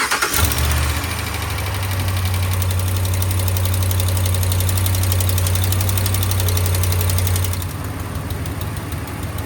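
A Ram truck's 5.7 Hemi V8 starting and idling with a leaking exhaust manifold gasket, a close, steady low rumble with a rapid ticking pulse running throughout, then easing off near the end.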